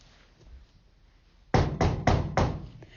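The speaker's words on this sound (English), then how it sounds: "They knocked on Moonface's door." Four firm knocks on a wooden door come in quick succession after a quiet pause, close and resonant, with a faint tap trailing after them.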